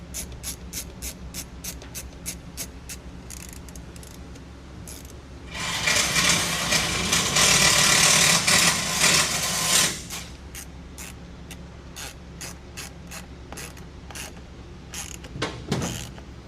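Bolts are tightened down on a metal top fitted to a Polaris Ranger 1000 Northstar, with a rapid run of close ratchet clicks, a few seconds of louder grinding, then more scattered clicks.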